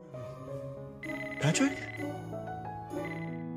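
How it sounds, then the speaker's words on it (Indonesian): A mobile phone rings in a repeating electronic tone, rising in a brief louder burst midway, while a voice speaks over it. "ponsel Patrick tiba-tiba aja ditelepon oleh Vincent."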